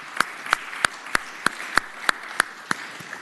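In the Senate of Virginia chamber, a senator's birthday draws about ten slow, evenly spaced claps, sharp and fairly close, over a quiet room.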